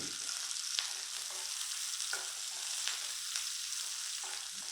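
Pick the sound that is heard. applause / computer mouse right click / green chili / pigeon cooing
green chili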